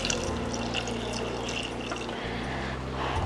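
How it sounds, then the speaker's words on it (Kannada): Water poured into a cooking pot while preparing millet soup with turmeric, a steady continuous pour with a faint low hum underneath, no talking. "ಈಗ ಇದನ್ನು ನಾನು ನೀರು ಎಷ್ಟು ಬೇಕೋ ಅಷ್ಟು ಹಾಕ್ಕೊಂಡು ನಾವು ಬೇಯಲಿಕ್ಕೆ ಇಡಬೇಕು"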